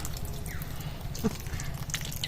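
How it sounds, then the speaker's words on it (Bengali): Wet sattu (chhatu) flour squeezed by hand in a kitchen releases water in close, soft drips and a brief trickle over a low steady background. "এইভাবে জলটা চিপে চিপে বের করে দেব"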